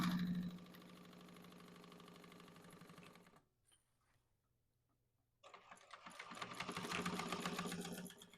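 A sewing machine chain-stitches pieces for a Mercury bag in a steady, close whirring run. It stops for about two seconds and then starts up again, louder.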